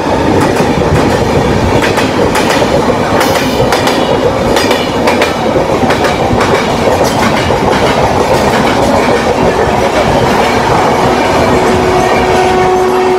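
A passenger train pulls into Bardhaman railway station in West Bengal with a loud, close, continuous rumble and clickety-clack of wheels. A horn and squealing wheels sound throughout.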